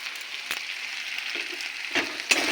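Chopped tomato with turmeric, salt, cumin and chilli powder frying in a pan for a small-potato curry gives a steady, soft sizzle throughout, with a few brief stirring scrapes along the way.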